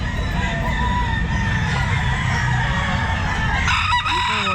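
A large rooster at a crowded outdoor pet market crows loudly and close by, its call sustained over a dense bed of market noise and surrounding birds.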